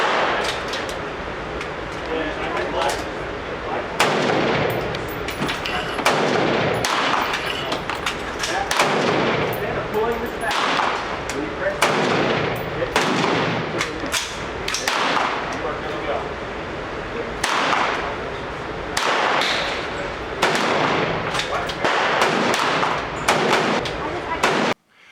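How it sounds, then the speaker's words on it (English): A Ruger MK IV pistol with a new firing pin and rebound spring fires repeatedly at the range, sharp loud shots arriving in irregular bursts with brief gaps across the whole stretch. "I fired Federal with no light strikes, which is a first for this gun in a while."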